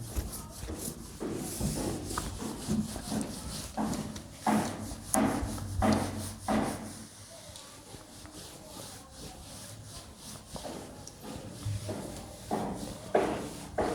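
A classroom board is rubbed clean during a physics lecture, with repeated rhythmic scrubbing strokes, some louder bursts and pauses, and occasional background noise.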